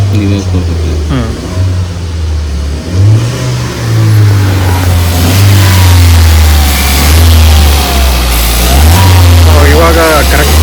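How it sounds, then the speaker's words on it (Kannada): A Mahindra XUV 700's engine runs and revs, the rumble rising and falling in several surges over a steady drone, with voices speaking faintly in the background. "ಇವಾಗ ಕರೆಕ್ಟಾಗಿ ರನ್ ಆಗ್ತಾ ಇದೆ ವೆಹಿಕಲ್, ನೋ ಪ್ರಾಬ್ಲಮ್"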